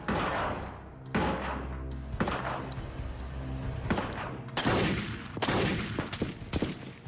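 Chaotic close-range gunfire in an FBI shootout in Dade County, sharp loud bangs in irregular bursts, some shots clustered rapidly, others spaced apart, with thuds between them and no talking.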